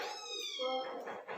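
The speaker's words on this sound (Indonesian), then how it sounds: "Hewan apa ini? Kucing." A cat gives a drawn-out, rising and falling meow up close, followed by a shorter second cry.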